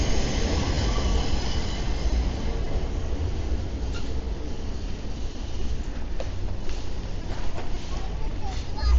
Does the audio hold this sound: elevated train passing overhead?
yes